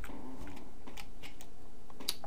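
Fingers tapping on a computer keyboard, a quick string of light, uneven clicks close by with no voices.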